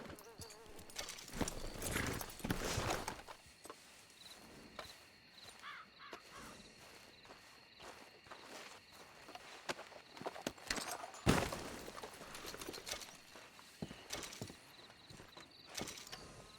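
Horse hooves clop in the Red Dead video game, irregular walking steps of varying loudness with bursts of other game sounds, heard alone without talk.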